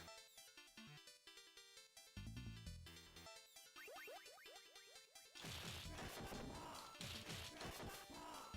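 In the Streets of Rage game, a character crashes through glass with a bright shattering smash that dissolves into tinkling shards over chiptune music and punchy hit effects, all very faint.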